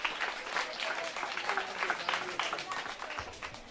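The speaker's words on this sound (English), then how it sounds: "A round of applause for him." An audience at a swearing-in and handover ceremony claps in a steady round of applause for an election winner, with voices faintly mixed in.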